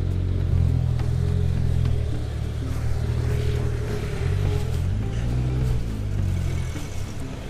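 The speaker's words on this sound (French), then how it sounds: "Et pour passer le portail avec les voitures assez basses. Donc là l'Aston Martin DB7 Vantage." An Aston Martin DB7 Vantage creeps through a gate at a large classic car gathering, its low engine rumble steady and close with slight revving throughout, no voices.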